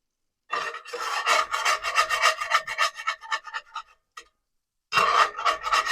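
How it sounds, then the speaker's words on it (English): Scraping residue off a frying pan before cooking breakfast eggs in lots of butter: a close, loud, continuous rasping scrape for about four seconds, a short pause, then the scraping resumes. No one speaks. "Scrape some of the crap off that pan too."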